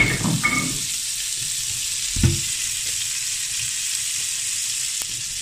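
Butter sizzles in a hot frying pan with a steady, close hiss, and a few soft stirring clinks and scrapes come through it.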